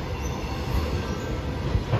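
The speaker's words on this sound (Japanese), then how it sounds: "こいつ遅延貨物。" A JR Freight EH500 electric locomotive hauls a long container freight train through Omiya station platform 4, a loud, steady roar of wheels on rail with a faint squeal nearby.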